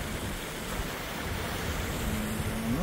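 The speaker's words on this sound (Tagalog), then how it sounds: "Dito na to sa taas ng Niagara Falls." Rushing water roars broadly and steadily at the top of Niagara Falls, a dense, continuous wash with wind, while a faint engine-like tone rises near the end.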